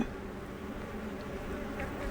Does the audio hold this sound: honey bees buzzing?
yes